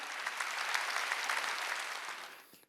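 Applause from a church congregation during a Sunday worship service: a dense, steady roar of many hands clapping that holds evenly for over two seconds and then fades out, with no speech over it.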